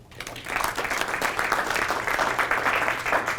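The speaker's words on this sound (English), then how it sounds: "Give him a round of applause." Audience applause in a room during a sales seminar, a dense steady patter of many hands clapping, rising quickly and holding at a fairly loud level throughout.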